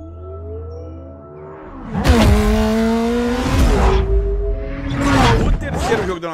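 Racing car engine revving and tires squealing in the Forza Horizon 4 racing game, loud bursts with sweeping pitch changes as cars pass, with a voice talking over parts.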